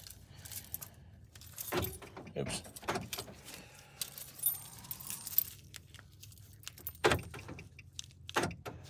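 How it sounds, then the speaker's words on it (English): Keys jangle close by inside a car as they are picked up and handled, with scattered metallic clinks and a couple of louder knocks, and a voice briefly speaks partway through. "Let me grab my keys"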